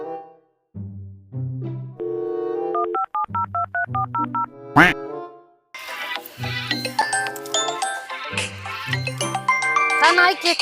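A phone rings in a rustic village household in Uttar Pradesh, a melodic electronic ringtone of repeating bright tones playing loudly and alone for several seconds before music-like bursts follow.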